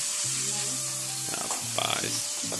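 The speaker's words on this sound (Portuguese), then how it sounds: "tá fritando mais ali" Food sizzles steadily as it fries in a pan, a bright continuous crackle with faint voices and tones mixed in behind it.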